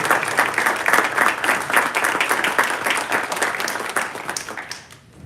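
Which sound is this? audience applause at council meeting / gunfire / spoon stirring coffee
audience applause at council meeting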